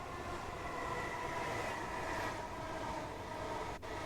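A Class 455 electric train passes on the Sutton and Mole Valley lines toward Dorking in Train Simulator Classic, a steady rolling rumble and hiss holding throughout with a brief dip near the end, no voices.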